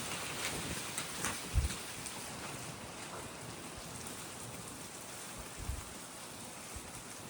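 Steady broadband outdoor wind noise with a few low gusty thumps buffeting close by, fairly quiet overall.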